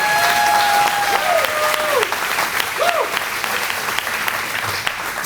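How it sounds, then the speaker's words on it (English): An audience gives a round of applause for donors at a ribbon-cutting ceremony for a skilled trades academy expansion in Portsmouth, loud continuous clapping with a few whistles rising over it. "Give them a round of applause for that."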